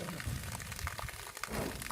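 Water gushing from a solar-powered deep-well pump running on a 1500 W panel array during a test, a steady rushing splash at moderate distance, continuous with no talk.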